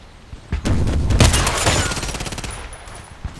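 Gunfire in the Contract Wars shooter game, a fast burst of sharp, loud shots that roll into a decaying rumble, close and punchy, with no talking.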